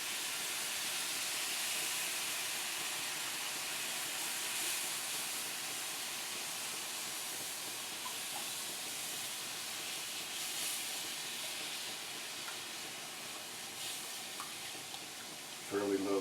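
Beef broth hisses and sizzles as it hits a hot pan for Swedish meatballs, a steady, fairly quiet steamy hiss that holds evenly throughout, with a brief clatter near the end.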